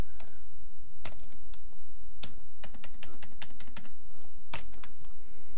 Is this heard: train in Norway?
no